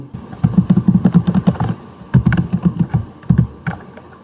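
Close clicking of someone typing code on a computer keyboard, two quick runs of keystrokes separated by a short pause and a few final taps.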